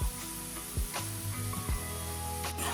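Pumpkin sabji sautés in a pan over a medium gas flame, giving a steady loud sizzle broken by a few sharp clacks of stirring.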